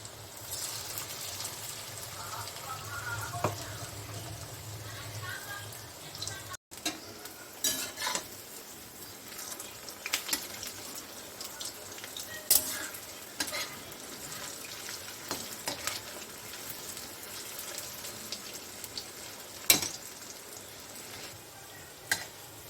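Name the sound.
drumstick leaf pakoras frying in oil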